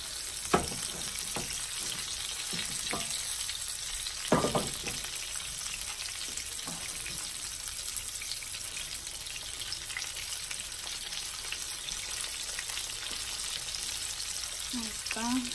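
Breaded chicken breasts frying in a pan, a steady close sizzle with occasional clinks and stirring knocks, continuous throughout with no talking.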